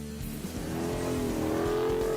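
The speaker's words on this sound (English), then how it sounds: "He's listening to a Dodge Hemi through a shell." A Dodge Hemi car engine revs in a steady, loud drone that climbs in pitch and holds, with no voices over it.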